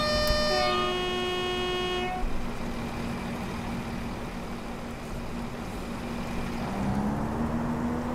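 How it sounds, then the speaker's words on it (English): A train in the game Train Simulator 2022 on the rainy North Wales Coastline sounds a loud, sustained horn for about two seconds, then a steady rolling rumble carries on as it passes close by. "That is a nice train."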